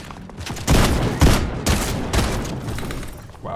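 Rapid gunfire from a Fortnite match, several loud sharp bursts in quick succession at close range, each shot cracking out over a steady layer of game noise.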